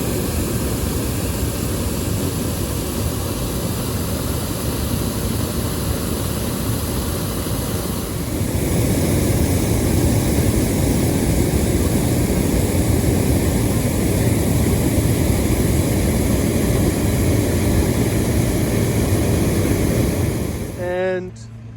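Small aircraft engine during takeoff over Marrakech, a steady broadband roar that grows louder partway through and holds at full power as the plane climbs, continuous and close, then cuts off abruptly at the end.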